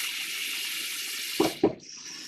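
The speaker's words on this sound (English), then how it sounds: "I'm just going to fill this other container" Tap water rushes steadily into a container used as a dunk tank for dyeing bricks, a loud continuous hiss broken near the end by two hollow knocks before the flow cuts off.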